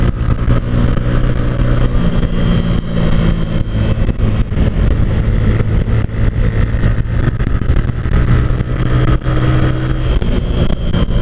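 Motorcycle engine droning steadily and loud on a fast run through Hunua Gorge, a continuous mid-pitched roar with wind rush and no pauses.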